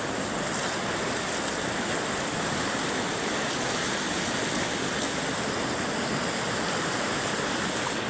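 Strong floodwater rushes through a swollen river stream after rain, a loud, steady broadband roar that holds without a break for the full stretch, with no voices over it.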